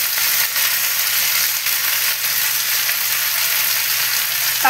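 Something frying in a pan with a dense, continuous close sizzle, steady and loud throughout, with no voices.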